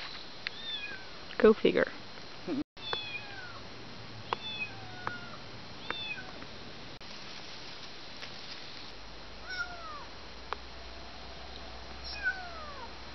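A neighbour's kitten meowing outdoors in the countryside by a river, repeated short plaintive cries at irregular intervals over background noise, with a person speaking briefly.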